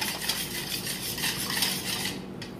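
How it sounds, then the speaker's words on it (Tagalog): Bread dough ingredients are mixed in a bowl, giving brief close clinking and scraping of a utensil against the dish, with no voices. "ihalo na natin lahat ng ating mga ingredients"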